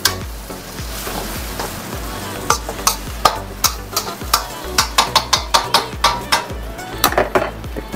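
A utensil stirs seafood chow mein with fried tofu in a hot pan, giving a quick, regular series of metal scrapes and clacks over a constant frying sizzle. The stirring picks up pace toward the end, and no one talks.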